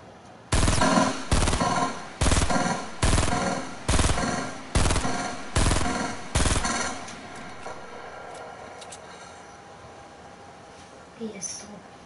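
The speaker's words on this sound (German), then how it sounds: "Warum werde ich angeschossen?" Eight evenly spaced, loud gunshots in the Fortnite battle royale game, each a heavy boom with a short decaying tail, followed by quieter ambient game sound.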